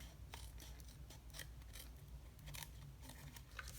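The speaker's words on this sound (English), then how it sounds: "I'll just trim this down." Scissors trimming a layer of cardstock for a handmade card, a series of close, crisp snips and paper slides in quick irregular succession, fairly quiet, with no talking.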